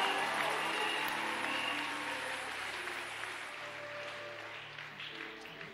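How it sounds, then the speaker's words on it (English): Faint, distant clapping from a church congregation at a Sunday service, steady at first and slowly fading, with a low hum in the background. "Clap well for Jesus. Shout hallelujah."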